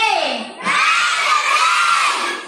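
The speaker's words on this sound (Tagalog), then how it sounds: "matutuwa ka mga mi sa mga chant ng mga bata." At school intramurals, a large group of children shouts a team chant in unison per color group. The cheering is loud and sustained, with rising crowd voices filling the space after a brief lull.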